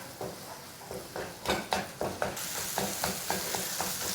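Egg bhurji fries in a pan with a soft, continuous sizzle, while a spatula stirs and mashes it in a series of distinct scraping strokes, close and fairly quiet, with no talking.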